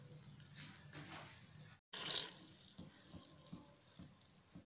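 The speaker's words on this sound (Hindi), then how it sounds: "इसमें पानी हम ऐड करेंगे।" Water is poured into a bowl of rava idli batter in a home kitchen, a short splashing pour followed by a brief pause and then quieter liquid sloshing and mixing sounds, close and moderate in volume.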